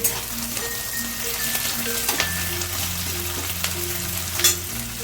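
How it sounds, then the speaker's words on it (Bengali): Sliced onion and slit green chillies fry in hot oil for a cauliflower-stem vegetable curry, a steady close sizzle with a few scraping stirs and clinks of the spatula. "পেঁয়াজ ভাজতে ভাজতেই আমি দুটো কাঁচা লঙ্কাকে এরকম সরু সরু করে একদম চিড়ে রেখে দিয়েছি সেই কাঁচা লঙ্কাটাকেও দিয়ে দিলাম"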